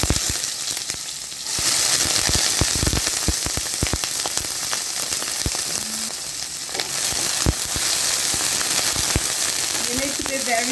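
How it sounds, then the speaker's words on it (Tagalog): Pale scallion pieces and ginger fry in hot oil with a loud, steady crackling sizzle and scattered sharp pops, continuing unbroken from start to finish while a voice briefly speaks near the end. "Heat the oil. Then I'm going to add the pale part of the scallion and my ginger."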